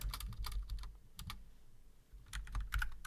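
Close, fairly quiet typing on a computer keyboard comes in short bursts of clicking keystrokes with a brief pause in the middle.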